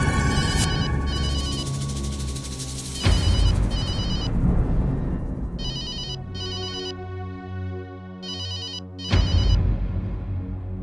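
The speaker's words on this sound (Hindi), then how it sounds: "ऑफिस का फोन भी नहीं उठा रहा है" A telephone rings with an electronic warbling tone in repeated bursts, with background music and dramatic hits underneath, no talking.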